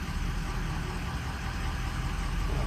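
A Ford diesel engine idles in gear with a steady, close, low rumbling chug that holds even throughout.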